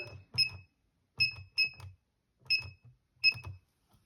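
Keypad beeps from a Siemens SI120F alarm system as a code is entered: several short, high electronic tones in quick pairs and singles, close and clear with faint button clicks between.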